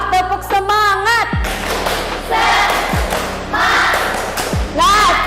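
A classroom of students performs the rhythmic 'tepuk semangat' spirit clap, loud, close chanting voices with three heavy thumping beats spaced through the clip and a teacher's voice leading at the start.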